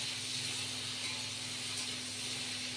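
Cauliflower pieces frying in oil for a fish curry, a steady close sizzling hiss with a low electrical hum underneath, no talking.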